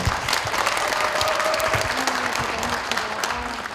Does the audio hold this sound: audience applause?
yes